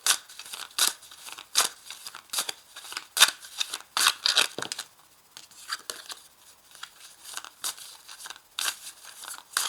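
Oracle cards being shuffled by hand: quick, soft papery riffles and crisp slaps in irregular bursts, close and fairly quiet, with no voice.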